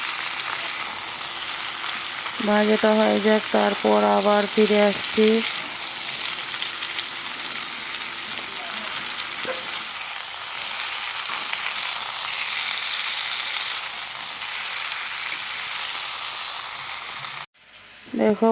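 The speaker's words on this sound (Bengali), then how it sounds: "এখন ঝিঙ্গাগুলোকে ঢেলে দিয়েছি ঝিঙ্গা আলু একসাথে ভেজে নেব এখন" Ridge gourd and potato pieces sizzle steadily in hot oil in a pan, a continuous frying hiss broken briefly by a few clattering stirs early on, then cutting off near the end.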